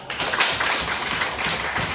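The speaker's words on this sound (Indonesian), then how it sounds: "Ya benar, tepuk tangan buat" Students in a classroom clap for a classmate, a loose run of fairly loud, irregular hand claps with no talking.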